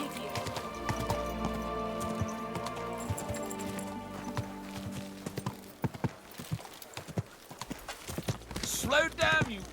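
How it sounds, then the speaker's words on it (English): Rapid rhythmic clip-clop of hooves from a galloping horse in Kingdom Come: Deliverance II, close and steady over music, with a voice talking near the end. "Easy, good horse. Slow down,"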